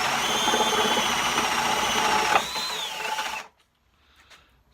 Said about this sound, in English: So that's the hole drilled